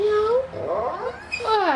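A voice imitates a cat with several rising and falling meows, close and clear, while an adult talks around them.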